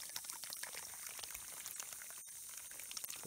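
Water pours steadily into a teapot until it is full, a continuous bubbling, splashing stream heard close up and alone, with only a brief break near the end.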